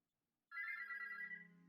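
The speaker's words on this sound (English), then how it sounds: "the morning alarm almost gives you a heart attack" A phone alarm suddenly starts ringing in the morning, a loud, sustained electronic tone that breaks out of silence and carries on steadily to the end.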